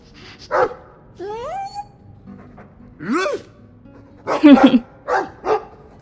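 A cartoonish dog in a video game gives a few short barks and yips spaced through the clip, mixed with other bright in-game sounds at moderate loudness.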